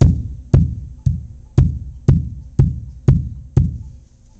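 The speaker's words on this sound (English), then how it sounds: "This here is a Padron Stomp box." A Padron wooden stomp box is struck with the foot in a steady beat: eight deep, booming thumps about half a second apart, each decaying before the next, close and loud with nothing else heard.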